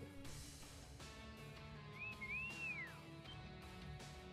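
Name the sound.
character whistling in Trails of Cold Steel 2 video game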